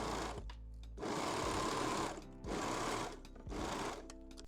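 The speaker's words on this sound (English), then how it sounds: "Then pin or baste and sew the back center seam." A sewing machine stitches the back center seam of lingerie with elastics basted in, running in four bursts of steady, close mechanical whirring with short pauses between runs.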